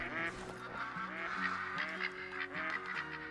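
Ducks calling with loud, repeated honking quacks as they land among decoys on water in the New England mountains, close and overlapping throughout.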